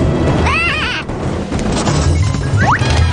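A sheep bleats once with a wavering cry, then a second shorter bleat follows near the end, over a rumbling, noisy background.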